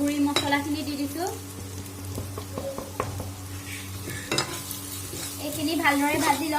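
Ground spice powder sizzles in an oily pan with crushed ginger and garlic for duck curry, while a spatula stirs and scrapes at an uneven pace. The frying sits close and steady under the stirring strokes.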